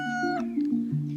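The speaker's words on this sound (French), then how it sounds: "Alors là, c'est le chat glouton." A cat meows in one drawn-out, wavering call, close and clear with no other sounds around it.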